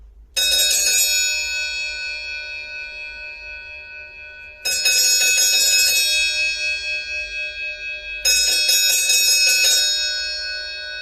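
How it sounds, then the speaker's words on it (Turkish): Three loud, ringing bell tones from a car horn fitted with a bell, each struck and left to decay with a long shimmering tail, repeating every few seconds with no talk. "aracına bir adet Vatikan çanı siparişi verdi. Geliştirilmiş tonda."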